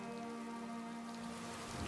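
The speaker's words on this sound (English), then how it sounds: "I could do without this damnable rain. It's been storming since we arrived" Steady, dense rain pours down in The Elder Scrolls Online, a close continuous hiss of falling drops with a faint musical tone lingering beneath, no voices present.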